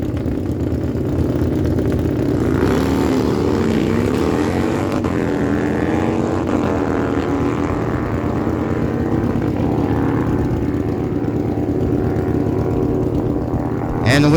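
Harley-Davidson motorcycles, a 2002 Harley Night Train and a 2021 Harley Road Glide, drag racing at a dragway, a continuous loud distant engine roar holding steady with slight rises and falls throughout.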